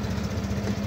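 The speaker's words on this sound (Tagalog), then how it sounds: "ganito ang tunog ng ating makina na all stock" A stock Euromotors Griffin 180i motorcycle engine idles close by, a steady low rumble with an even, rapid pulsing throb and no voices.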